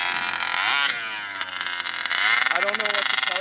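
RC monster truck powered by an RCMAX 80cc gas engine running at half throttle, a loud buzzing two-stroke drone that rises and falls in pitch as the throttle varies.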